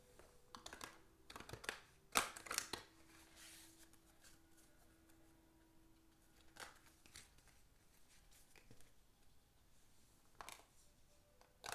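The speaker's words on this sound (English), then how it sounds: "I'm going to shuffle the cards in my lap, but you should be able to hear it." Tarot cards are shuffled in a lap close up in short irregular bursts of riffling and flicking, with quiet pauses between, soft overall.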